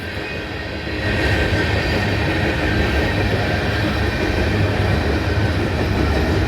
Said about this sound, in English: It's a southbound train, but you can tell by the sun that this train's going west.